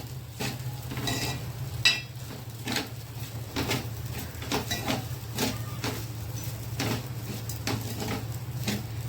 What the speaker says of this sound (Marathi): हे व्यवस्थित आपल्याला हे परतून घ्यायचं आहे साखर याच्यामध्ये व्यवस्थित विरघळेपर्यंत